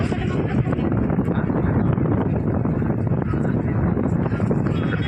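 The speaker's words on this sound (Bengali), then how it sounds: "হাওয়া দিচ্ছে চারদিক দিয়ে" Wind blowing across Old Digha beach, a strong continuous low rumble and buffeting against the microphone that holds steady and loud throughout.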